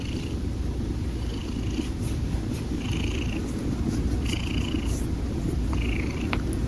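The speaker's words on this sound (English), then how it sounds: "You can hear him purring." A cat purrs continuously and loudly up close, a low rumbling drone with faint higher squeaks and rustles over it.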